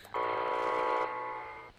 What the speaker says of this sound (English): What that should do is it should send a redstone signal to the howler alarm, and I'm going to set it max range.